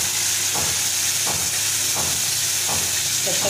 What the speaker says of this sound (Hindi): बस मीडियम फ्लेम पर हम इस मसाले को इसी तरह से भूनेंगे